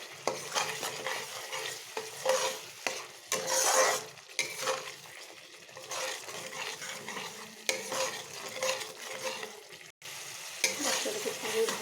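Masala for an aar fish dish is stir-fried in a pan, with repeated scraping strokes of a spatula over a soft, continuous sizzle, close and moderately quiet with uneven rhythm.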